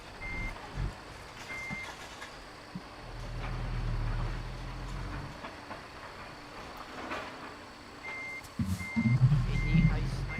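A truck's reversing beeper in American Truck Simulator sounds in repeated short high beeps, close by, over a low rumbling engine and road noise that grows louder toward the end.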